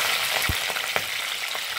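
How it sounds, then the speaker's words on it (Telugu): Green chillies and beans fry in a hot pan with a steady loud hissing sizzle, broken by a few soft stirring knocks, with no talking. "అంతే అవి వేగనిస్తా ఉన్నాయి"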